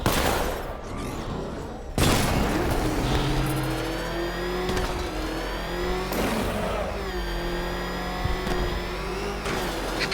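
Batmobile tank car from Batman Arkham Knight: a loud, sustained engine roar with shifting revs and pitch sweeps, punctuated by bursts of rapid gunfire and crashing impacts.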